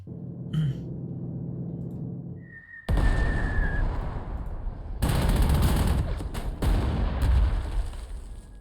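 A bomber attack in the Panzer Corps 2 strategy video game: a brief whistle, then loud bursts of explosions and rapid gunfire-like cracks erupt in two heavy waves, fairly close and continuous.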